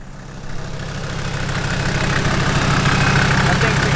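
A diesel Mercedes engine idles close by with a steady, low rumble that holds evenly from start to finish and builds slightly in loudness.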